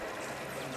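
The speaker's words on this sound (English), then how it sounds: "And you have an actual waterfall running through to a koi pond." A waterfall on a large G-scale model railroad layout spills into a koi pond, making a brief, steady wash of rushing water at moderate volume.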